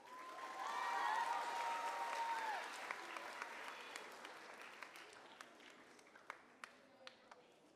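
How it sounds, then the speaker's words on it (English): An audience applauding at a 5th grade moving-up ceremony, a burst of clapping that swells early then thins to scattered claps, with a faint whistle-like tone at the start. "You can give Ms. Van Driesch a round of applause"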